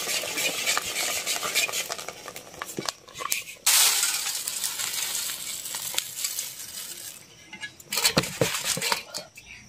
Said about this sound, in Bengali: দেখেন কত সুন্দর একা একা মুড়ি ভাজা হয়ে গেল